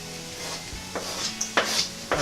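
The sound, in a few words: chips frying in beef dripping with garlic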